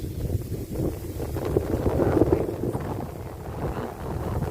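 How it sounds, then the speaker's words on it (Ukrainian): Steady outdoor wind by a river buffeting the microphone, a low rumbling roar that swells slightly in the middle and continues throughout. "Ось просто ще вітер такий"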